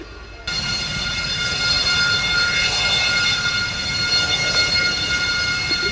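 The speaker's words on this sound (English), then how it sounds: "The Romanian Air Force MiG-21 Lancaster C. It is going to at least taxi past us." A Romanian Air Force MiG-21 LanceR C jet taxiing past at an air show: a loud, steady engine roar with a high whine that fills the scene, starting abruptly and holding close and continuous, no talk.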